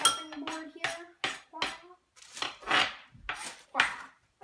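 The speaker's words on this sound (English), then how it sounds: "set the mortar aside and the pestle. So set that there, and kind of clear off my chopping board here." A stone mortar and pestle are set aside on a kitchen counter and a chopping board is cleared, giving a series of close, sharp clinks and knocks of crockery, utensils and wood in an uneven rhythm.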